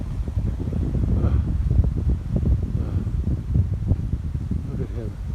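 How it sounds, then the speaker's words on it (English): Strong wind buffets the microphone at a barn, a steady low roar with gusting surges, while a person talks over it. "Look at this wind is strong."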